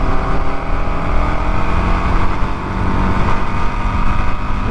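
A vehicle engine drones loudly and close by as it accelerates, with brief shifts between gears. It sounds like a steady motor hum that rises slightly, with no talking.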